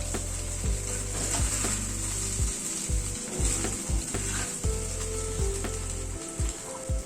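Cooked rice with vegetables and spices cooks in a pan, with a continuous close sizzle broken by repeated scraping and clattering stir strokes.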